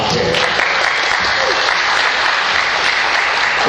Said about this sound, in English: So let's give a round of applause for the great Tom Kaye.